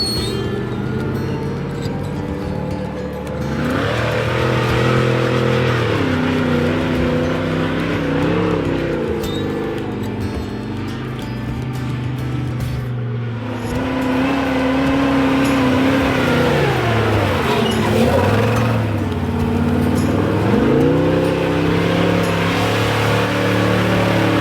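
An off-road 6x6 vehicle drives through sand, its engine droning loud and close without a break, the pitch rising and falling as it revs and eases off.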